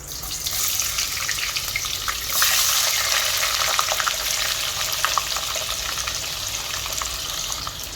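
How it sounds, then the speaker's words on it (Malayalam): Two medium onions go into hot oil with cinnamon, cloves, cardamom and a bay leaf for egg biryani and set off a loud, steady sizzle and crackle, with a few stirring clicks up close and no talk. "ഇപ്പം നമുക്ക് 2 മീഡിയം സൈസ് ഓണിയൻ ഇട്ട് കൊടുക്കാം"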